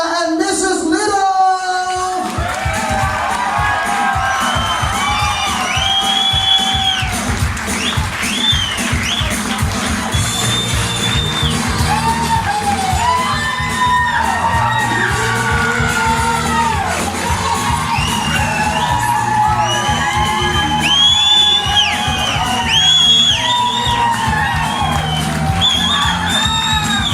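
Wedding reception guests cheer, whoop and shout for the newlyweds as they are announced, a loud sustained crowd roar with excited voices throughout after a brief opening call.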